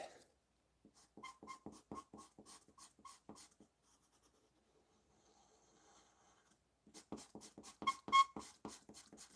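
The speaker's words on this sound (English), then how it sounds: "Sorry about the squeaking noise." A charcoal pencil squeaks and scratches across paper during drawing, in quick rhythmic strokes. There are two busy bursts of strokes with a quieter pause between them, and the sound is close and fairly soft.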